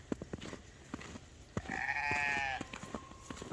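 A sheep on a snowy farm gives one drawn-out, wavering bleat lasting under a second, fairly close, amid soft clicks and scattered knocks from the surrounding pen.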